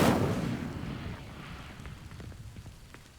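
Incendio fire spell in Hogwarts Legacy bursting against dry vines: a loud whooshing ignition at the start that fades into a long crackling burn with scattered pops.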